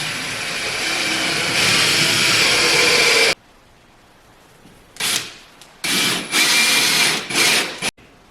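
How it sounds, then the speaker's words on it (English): A power drill drives the last screws into a wall for a coat rack: a long steady whirring run, then several short bursts of the motor with pauses between, loud and close. "And now we're securing the final 2 screws."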